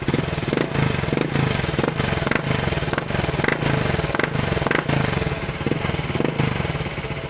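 A motorcycle with an aftermarket power pipe exhaust runs close by with a steady, rough exhaust note and repeated rhythmic pulses, held at moderate revs throughout.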